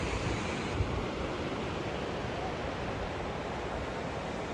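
Water rushes in a steady, loud, continuous roar at a stream near Mussoorie and Dehradun. The sound is unbroken broadband noise with no voices.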